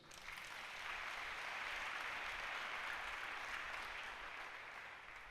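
A church congregation breaks into sustained applause for the Lord, a broad wash of clapping that swells quickly, holds steady and slowly fades, heard at moderate distance.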